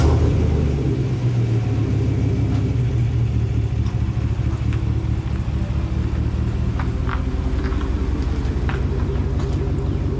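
Engine of a Chevy Trail Boss truck idling and rumbling as it is moved, a steady low drone close by with slight rises in revs and no talking.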